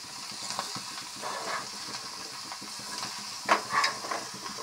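Ridge gourd added to a pan with garlic fries and gets stirred, a soft steady sizzle with intermittent scraping and clinks of a spatula against the pan, fairly quiet and close.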